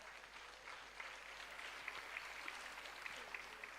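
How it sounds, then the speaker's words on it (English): Faint, distant applause from an audience at a young achievers' summit in a hall, a soft continuous patter of clapping with a few crisper claps near the end. "Give a big round of applause for her."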